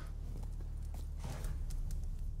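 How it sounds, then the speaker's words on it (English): Horse hooves clip-clop in The Witcher 3: Wild Hunt, a quiet, evenly spaced run of light hoof strikes over a low ambient game background. "Where is my horse? What? Come here, Roach"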